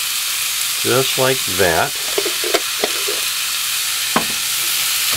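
Sauce hitting a hot pan layered with chicken, prosciutto and mushrooms, a broad steady sizzle with a few sharp clinks and taps, under a man's brief spoken remarks.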